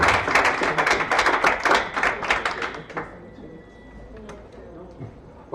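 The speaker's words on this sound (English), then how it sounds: "An applause, please." Brief, fairly sparse clapping from a small audience at a design ethics meetup, about three seconds of close hand claps that fade into room noise and scattered taps.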